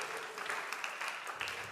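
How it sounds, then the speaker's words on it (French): A faint, distant wash of audience clapping rises for the twenty candidates at the opening prime of a talent competition, steady and soft throughout the short stretch. "est-ce que nous pouvons applaudir pour eux"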